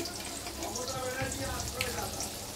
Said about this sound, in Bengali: এখন আমি বড়া মানে মিষ্টি কুমড়া ভাজাটা ভেজে নিচ্ছি